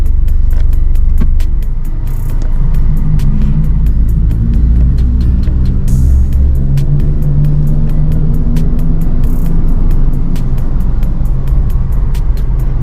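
Car engine idles and creeps in congested Bangkok evening traffic, a loud steady low rumble with passing vehicles and occasional faint clicks, no talking.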